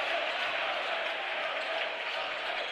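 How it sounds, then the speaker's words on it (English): Crowd applause fills a college basketball gym at a men's game between UChicago and WashU, a steady, dense wash of clapping and cheering throughout with no breaks. "And another huge round of applause for the class of 2028."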